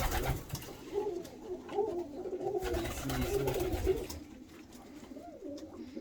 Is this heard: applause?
no